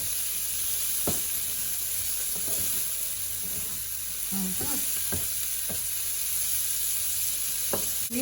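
Vegetables for a sardine dish frying in a pan, a constant close sizzle with scattered clicks and scrapes of a utensil stirring.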